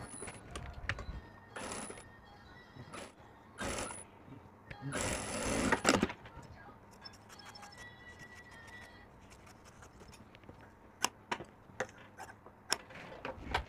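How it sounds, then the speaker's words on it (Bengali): Sewing machine stitching a kurti collar, run in a few short bursts with pauses and small handling clicks between, close and fairly quiet. "এভাবে 1 ফিট বাদ দিয়ে একটা সেলাই দিয়ে নেব।"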